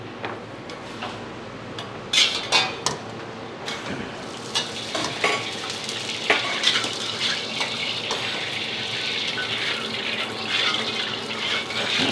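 Nasi goreng kampung with extra sausage fries in a hot wok at a food stall, a continuous loud sizzle broken by repeated sharp scrapes and clanks of a spatula stirring the rice.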